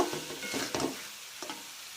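Sweet potato and tomato curry with tamarind and onion stalks is stirred in a pan, making a few soft scraping strokes over a low, faint sizzle.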